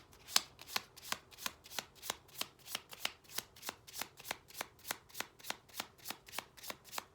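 A deck of playing cards being shuffled, a fast even run of about two dozen crisp riffling snaps at a steady rhythm, close and clear with no one talking.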